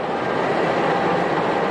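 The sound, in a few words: passenger train being shunted back to depot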